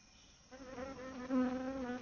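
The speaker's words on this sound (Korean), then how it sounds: "꽃등에 한 마리가 날아들었습니다." A small hoverfly buzzes steadily among blooming flowers, starting after a short quiet moment and growing slightly louder as it hovers nearby.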